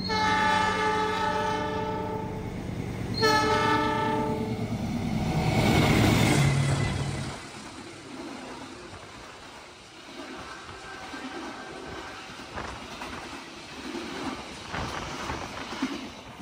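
The Pangandaran passenger train sounds a loud two-tone horn blast as it approaches, then rushes past close by with roaring wheels and rattling cars before fading into rhythmic clatter and distant rumble.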